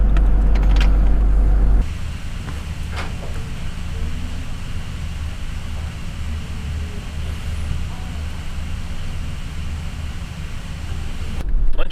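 Car driving along a road into town, with steady engine and road noise throughout, loud and continuous, heavier at the start and end.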